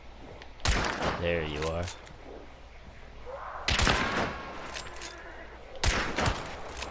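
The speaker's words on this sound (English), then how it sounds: "Wasting too many shots on this guy." Gunfire in the video game Hunt: Showdown, three loud sharp shots spaced a couple of seconds apart, each with a ringing tail, with a player talking between them.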